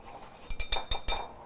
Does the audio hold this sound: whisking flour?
yes